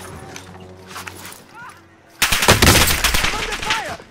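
Call of Duty Warzone gunfire on Caldera erupts loudly as a burst of rapid automatic shots after a quieter stretch with game voice lines, then continues as close, dense firing.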